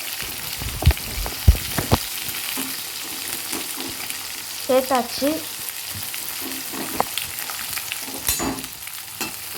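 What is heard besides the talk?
chopped onions frying in oil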